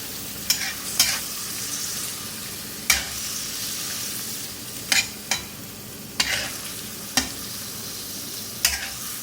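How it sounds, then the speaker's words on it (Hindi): Garlic ginger paste frying in a pan for a Shinwari qeema, a steady soft sizzle broken by repeated sharp scrapes and clacks of a spoon stirring against the pan. "अब इसको फ्राई करेंगे इसके साथ। इसको इतना फ्राई करना है कि इसका कलर चेंज हो जाए।"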